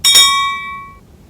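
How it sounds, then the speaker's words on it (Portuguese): A single bright notification bell chime rings out, striking sharply and then fading smoothly over about a second. "tocar o sininho para que você receba as novas notificações do canal"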